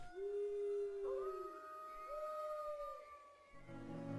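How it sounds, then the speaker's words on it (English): A stock werewolf howl sound effect sits in the background of Pokémon Sword & Shield music, with long gliding howls overlapping across the span, fairly faint, followed by a low tonal swell near the end. "I like the stock werewolf sound effect in the background of this song."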